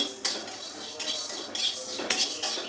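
Dry-roasted panch phoron being ground in a Bengali kitchen, with several bursts of gritty scraping and clinking at irregular intervals, moderately loud and close, with no talking.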